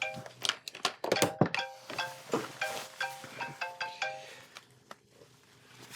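A phone ringtone plays as a repeating series of bright, melodic electronic beeps in an office setting, fairly close and clear, with no talking over it.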